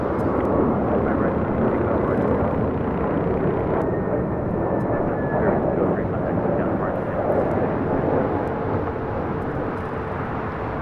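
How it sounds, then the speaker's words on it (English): A Boeing 737-900ER airliner arriving at a major international airport gives a continuous broad jet roar throughout, steady and moderately loud with a slight fade toward the end, while a voice talks faintly underneath. "coming in from Portland on a 737-900ER in the Honoring Those Who Serve livery"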